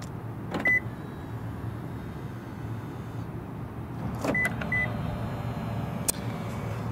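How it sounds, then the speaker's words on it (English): Power folding side mirrors on a 2021 Lexus NX 300 whir faintly beside the car over a low steady hum, with a few soft beeps and clicks and no talking. "Rearview mirrors are painted black and they are power folding."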